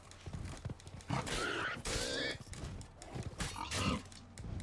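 Geralt's horse Roach in the video game The Witcher 3, snorting and whinnying in a few loud bursts with hoof clops, mixed with a voice talking in between.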